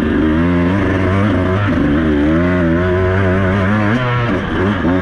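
An enduro dirt bike rides along a forest track, its engine droning loudly and steadily with shifting revs, close by throughout.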